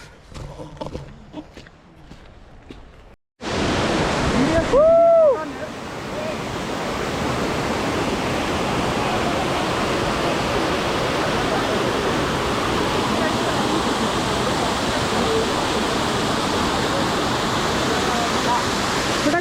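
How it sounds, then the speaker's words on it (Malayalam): A trekking trail waterfall roars as a steady, loud wash of broadband noise that begins abruptly and continues unbroken, with a brief whistle-like sound near the start. "കുറച്ച് വന്നു കഴിഞ്ഞപ്പോൾ ഒരു അടിപൊളി വെള്ളച്ചാട്ടം"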